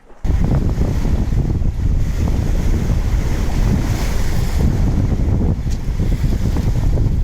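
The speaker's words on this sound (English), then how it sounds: "So now I'm just gonna enjoy a little sailing about" A sailboat under way in Mariagerfjord, Denmark: constant wind buffeting and rushing water along the hull, with waves sloshing close by in a steady, loud wash and no voices.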